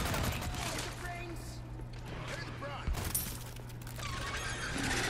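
Rapid gunfire and clattering effects from the video game Resident Evil 4 Remake, with a dense bed of game action and a few sharper bursts.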